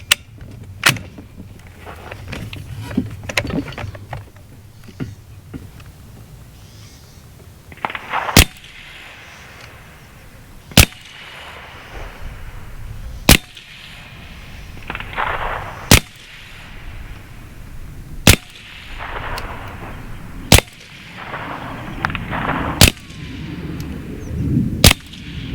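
An AEA Terminator .30 caliber semi-auto PCP air rifle fires at 50-yard targets outdoors, giving sharp, loud cracks spaced a few seconds apart over a low background, with an earlier cluster of smaller clicks and knocks.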